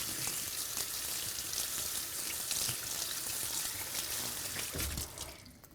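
Tap water runs and splashes at a sink while a reusable Delibru K-cup coffee filter is rinsed, a steady close hiss that drops away at the end.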